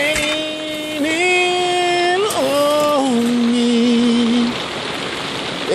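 Rain falls steadily outdoors by a mobile home, a continuous hiss under a sung melodic voice that slides through several held notes.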